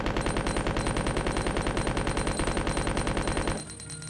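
A rapid, evenly pulsing burst of automatic gunfire with unlimited ammo in Resident Evil 2 on Dreamcast, loud and continuous for several seconds before cutting off abruptly.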